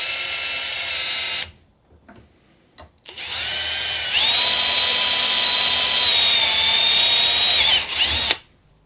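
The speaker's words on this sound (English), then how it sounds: "I'm going to drill this hole the rest of the way through." A power drill drilling through wood whines loudly in a steady high-pitched drone, stops briefly, then bores on with rising strain before cutting off.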